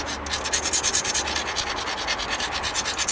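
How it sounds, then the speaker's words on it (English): Edges of an obsidian point preform ground with a steady, rhythmic abrasive rubbing, close and loud, in even back-and-forth strokes with no talking. "So the first thing I'm going to do is grind."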